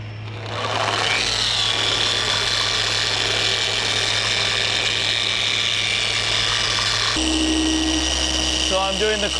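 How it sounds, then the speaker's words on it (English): A polisher loaded with Feynlab resin compound works car paint in a small section, giving a continuous close whirring drone that shifts pitch near the end, with a few higher squeaky tones at the close. "take my Feynlab resin compound, put it on my polisher, and work a 2x2 area to correct the paint"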